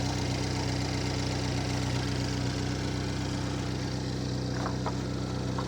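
A 2015 GMC Terrain's 2.4L four-cylinder engine idles steadily and evenly after fresh spark plugs, a continuous low mechanical hum and vibration held close throughout with no talk.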